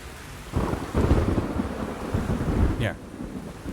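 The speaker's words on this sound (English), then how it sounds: "when there is a thunder going on, this will trigger." Thunder for an abandoned-scene cinematic rolls in with a sudden loud rumble over a rain-like hiss, swelling for about two seconds, then fading as a sharp crack cuts through near the end.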